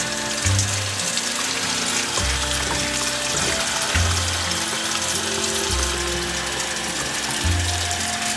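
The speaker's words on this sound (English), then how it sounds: "Give the mushrooms a wash." Brown and white button mushrooms are rinsed under a running kitchen tap, a steady rushing stream with recurring low pulses, loud and near, with no speech.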